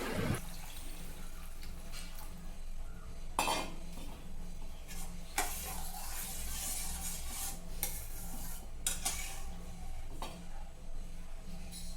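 Spoon scraping and clattering against a pot while upma is stirred after water is added, with irregular metallic knocks and rubbing strokes over a faint steady background hum, fairly quiet and close.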